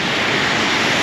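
Loud, steady rush of a jungle waterfall and river at La Planta, Arecibo, Puerto Rico, a dense broadband roar filling the moment with no voices over it.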